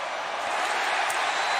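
A roaring football stadium crowd at an LSU versus Auburn game, a dense, sustained wash of distant cheering and noise on third down with no pauses.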